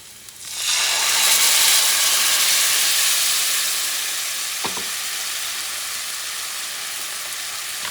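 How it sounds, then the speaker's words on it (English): Tomato sauce hits a pan of frying rice and calamari, setting off a loud burst of sizzling and hissing steam that gradually settles into a steady fry, with a brief stir or clink midway. "What you do now is you add some tomato sauce."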